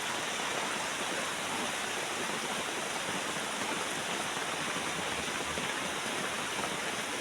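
Heavy rain pours down steadily, a dense even hiss of water falling on surfaces that holds constant throughout with no voices.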